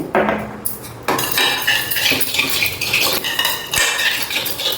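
Bitter gourd being mixed with turmeric and salt in a pan, close metallic scraping and clinking of a spoon against the vessel in busy, uneven strokes.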